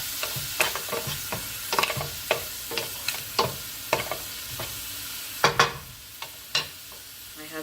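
Lobster sautéing in a pan with Indian spices makes a low sizzle broken by sharp, irregular clinks and scrapes of a utensil against the pan, close up and with no talking.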